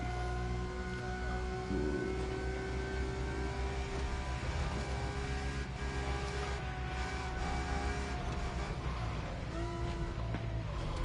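A Lamborghini races in The Crew Motor Fest, its engine a steady, continuous drone that holds a constant level for the whole stretch, with no talk over it.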